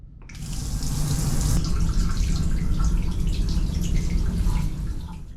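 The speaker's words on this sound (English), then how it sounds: "this is when I make use of the ensuite shower ahead of making it for breakfast" Ensuite shower running aboard a VIA Rail sleeper train: a steady, dense hiss of spraying water that starts abruptly and continues loud and close, with faint splashes and rattles under it.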